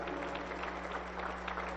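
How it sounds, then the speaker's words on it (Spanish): Members of a Pentecostal church congregation clap together in brief, steady applause, fairly faint over a low electrical hum. "Aplauso para el Señor Jesús."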